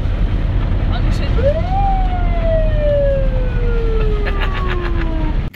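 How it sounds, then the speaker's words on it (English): A 1990 Ford E350 ambulance siren heard from outside, a loud rising then slowly falling wail sweeping down over several seconds, followed by brief rapid chirps near the end, with a steady low engine rumble underneath. "I'm gonna do some of the sirens and stuff from outside so you can hear just how ridiculous they are."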